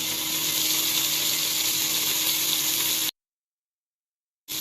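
Freshly chopped tomatoes hit a hot pan while making a Tamil-style egg curry gravy, giving a loud, steady sizzle for about three seconds before cutting off abruptly, with no talk.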